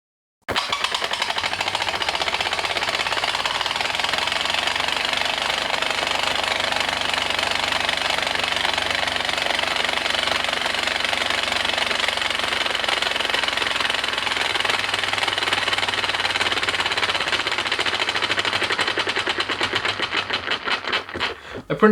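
A 3D printed compressed air piston engine runs at 50 psi, a rapid, loud mechanical clatter and hiss that stays steady for about twenty seconds before slowing and sputtering out.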